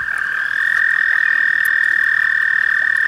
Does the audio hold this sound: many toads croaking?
yes